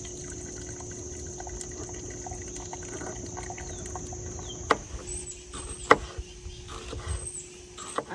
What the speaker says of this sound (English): I'm just straining this off into the rice maker,